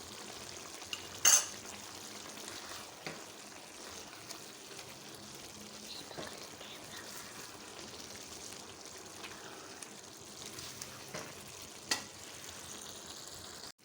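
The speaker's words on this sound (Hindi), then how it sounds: "अच्छी तरह से भून लें सब्ज़ियों को" Mixed vegetables with dried fenugreek and mint sauté in oil in a pan, giving a steady soft sizzle throughout with a few faint clinks of a utensil against the pot.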